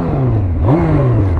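A Honda CBR motorcycle engine revs close and loud, its pitch climbing in one quick throttle blip and then easing back down over a steady idle.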